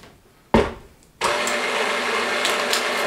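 An electric stand mixer beats blueberry muffin batter. After a short burst it switches on with a steady, loud whirring hum that runs on at close range, and no one talks.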